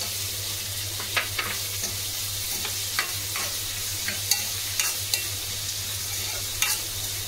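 Thinly sliced onions and green chillies fry in a pan, a steady close sizzle under a low hum, with occasional light scrapes and taps from stirring.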